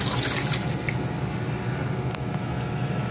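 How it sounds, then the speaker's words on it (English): Tap water runs steadily into a sink and down the drain, a continuous close splashing rush that carries on for the whole stretch with no talk over it. "Let me turn the water on."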